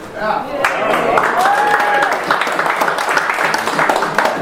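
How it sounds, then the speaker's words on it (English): An audience at an American Legion post show in Jeffersontown, Kentucky, gives a scattered, moderate round of clapping, with a voice talking over it. "Thank you for that sympathy applause."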